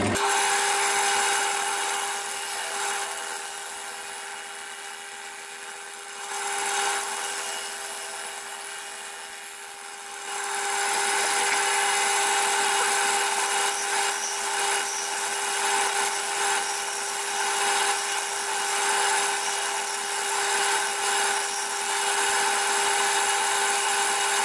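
A woodturning tool cuts an ash bowl spinning on a lathe, a steady close scraping hiss that runs continuously with a humming tone underneath and eases briefly midway before resuming.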